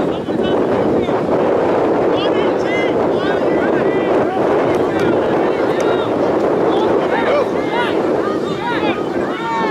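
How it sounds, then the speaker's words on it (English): Strong wind gusting across an outdoor high school soccer match buffets the microphone with a steady loud roar, while faint crowd voices and shouts come through underneath. "Wind's picking up again."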